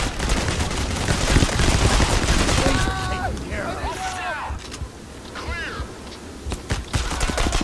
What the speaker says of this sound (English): Shooting him, shooting him.